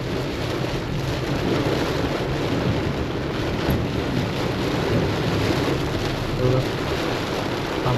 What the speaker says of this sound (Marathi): बघा पाऊस किती जोरात पडतोय.